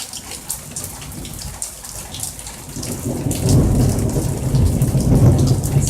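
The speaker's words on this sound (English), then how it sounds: "Let's see how long it takes to get that thunder." A central Florida thunderstorm: steady rain patters on surfaces throughout, and a low rumble of distant thunder swells in about halfway through and keeps rolling to the end, loud and close over the rain.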